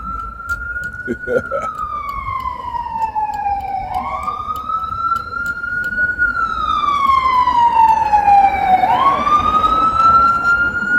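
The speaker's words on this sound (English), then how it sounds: "They start sending the ambulance, making all the noise." A close, loud ambulance siren wails, sweeping up and down in long cycles and growing louder over a low traffic rumble.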